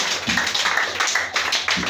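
A church congregation claps in praise of Jesus, brisk steady hand claps from many people, close and continuous, with no voices over them.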